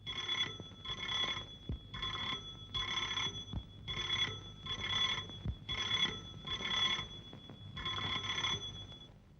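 A telephone rings in repeated double bursts, an electronic trill pulsing at a steady rhythm with short pauses between rings, moderately loud and alone.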